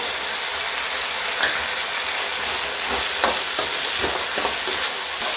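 Potatoes and peas frying in a pan for khichdi, a steady loud sizzle with intermittent scraping strokes of a spoon stirring the mixture, close and continuous.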